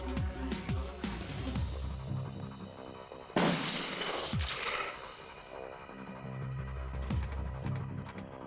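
Gunfire in the Shadowrun Returns role-playing game: scattered sharp shots and one heavy blast amid a tonal hum, moderately loud with gaps between reports.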